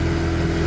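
River boat outboard motor held at wide open throttle while struggling with a fuel problem, giving a steady, loud, rough engine roar with no pauses throughout the short stretch.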